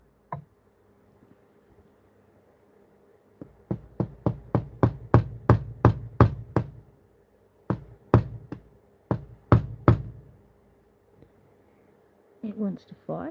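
Hammer tapping down a window lock component, a quick run of about a dozen sharp, close knocks in a steady rhythm, a short pause, then several more taps, with faint rustling at the end.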